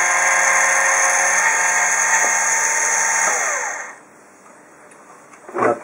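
Motorized blank-firing revolver cannon of a big-scale RC M2 Bradley tank, a loud steady mechanical whir with high tonal whine for several seconds, then dropping off to a quieter hum with a short clatter at the end.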